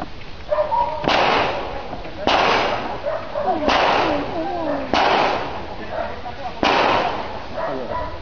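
Handgun shots ring out on a law-enforcement friendly match shooting stage, five sharp cracks spaced roughly a second apart, each followed by a ringing echo, with people talking faintly between shots.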